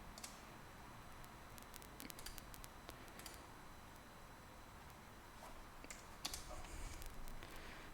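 Computer keyboard typing during a live coding session: quiet, scattered clicks of keys pressed in short bursts against a soft, steady background hum, with no one speaking.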